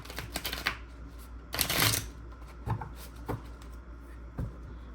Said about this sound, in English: As I bump the cards around, right?